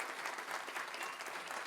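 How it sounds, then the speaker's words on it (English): A short burst of dense, steady audience applause at a Lions Club show in a civic center, honoring the show sweetheart Morgan. "One more round of applause for Morgan."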